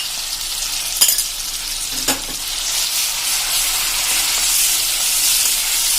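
Tomato, onion and cashew paste added to a hot pan with ginger and garlic for palak paneer, over a medium gas flame: a couple of sharp clanks as it goes in, then a steady, bright sizzle and hiss.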